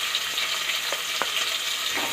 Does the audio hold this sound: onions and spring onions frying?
yes